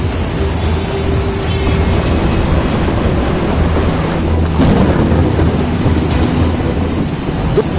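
Raging floodwater from heavy monsoon rain in Haridwar, a loud, dense, continuous roar of rushing water with no break, close and overwhelming.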